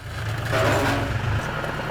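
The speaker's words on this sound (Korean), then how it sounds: "축사로 돌아온 보성이가 트랙터를 창고 안에 세우더니 트랙터 뒤에 덤프를 연결한다" A farm tractor engine runs steadily inside a barn shed. The low rumble is close and even, with a slight rise midway before settling back down.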